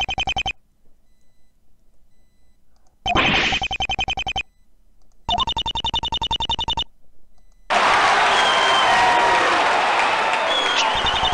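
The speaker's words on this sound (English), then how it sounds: "Everyone's applauding." After bursts of rapid text-scroll beeping, a loud wall of courtroom applause breaks out in the video game Phoenix Wright: Conflict of Interest and continues steadily for about four seconds.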